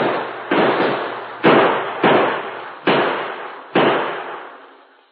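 Gunfire sound effect in an old radio drama: five or six sharp, loud shots spaced irregularly, each with a reverberant decay, heard alone.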